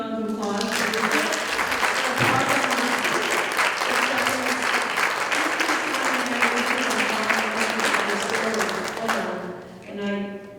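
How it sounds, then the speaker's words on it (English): An audience gives a big round of applause for Bridget at a corridor networking lunch, the clapping loud and sustained for about nine seconds before fading, with some voices mixed in. "Can we give a huge round of applause for Bridget?"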